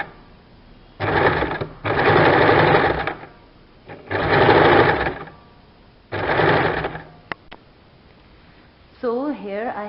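A sewing machine stitches around the edges of a kurti's collar neckline in three long, steady bursts with short pauses between them. A voice is heard briefly near the end.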